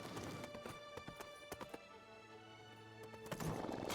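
Horse hooves galloping in the King's Quest video game, a run of sharp clip-clop hoofbeats in irregular bursts over a low droning music bed, then a rising whoosh at the end.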